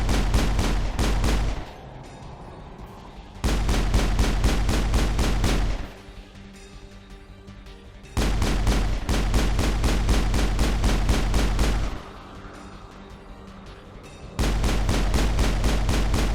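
Shepard's pistol fires rapidly at an Armature on Therum in Mass Effect, loud bursts of continuous shots in long strings broken by short pauses for cooldown.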